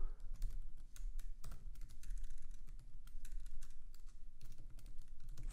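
Rapid, uneven clatter of keys on a computer keyboard as code is typed, close and steady with brief pauses, no voices.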